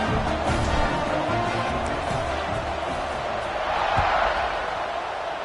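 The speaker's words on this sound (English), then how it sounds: "this crowd is buzzing after that last score" Stadium crowd buzzing in a football video game, a continuous dense roar of many voices with a faint thump near the end, sustained without clear breaks.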